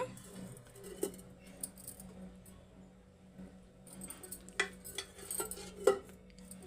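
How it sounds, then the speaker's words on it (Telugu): A kadai pan set down and handled on a kitchen stove, scattered light metallic clinks and knocks spread over several seconds, close but quiet, with no talk. "నేనైతే కళాయి అయితే పెట్టేసిన."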